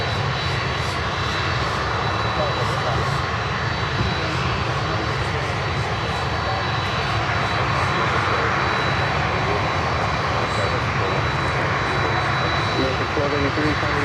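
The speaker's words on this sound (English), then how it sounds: "This looks like a runway 112, like a runway 12 go-around." Aircraft engines roar continuously and loudly during a runway 12 go-around, a broad sustained jet rumble with no break.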